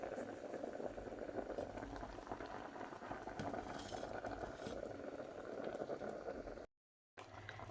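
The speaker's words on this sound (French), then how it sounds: "je vais refermer et laisser la sauce cuire pendant une bonne demi-heure avant de venir assaisonner" Sauce of smoked machoiron fish simmers in a covered pot with a steady bubbling boil, continuous and close at low volume, cut by a brief silent gap near the end.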